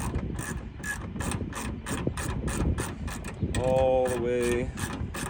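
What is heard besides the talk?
bolting weapon storage locker onto studs, ratcheting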